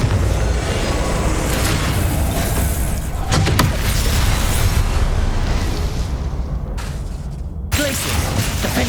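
Confringo blasting spell explosions from Hogwarts Legacy gameplay, a dense roar of spell blasts and booms under continuous combat noise, with a few sharp bursts standing out near the middle and end.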